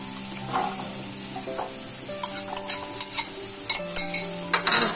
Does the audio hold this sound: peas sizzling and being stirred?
yes